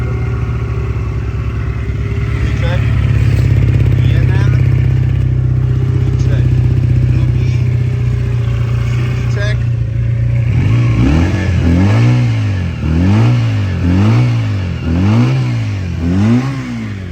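A new Junak M16 motorcycle engine rumbles close by during a test ride, steady at first, then revved repeatedly in rhythmic rising and falling surges, with a voice talking over parts of it.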